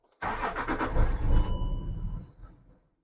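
A Land Rover Discovery 3 engine cranks with a rapid stuttering whir for about a second, catches, and settles quickly into a quieter idle that fades, heard up close in a quiet setting.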